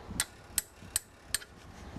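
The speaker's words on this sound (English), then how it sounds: "hammer to loosen it" Four evenly spaced sharp metallic strikes, a hammer hitting a hex wrench to loosen a car brake caliper bolt in a steady rhythm, close and crisp over a quiet background.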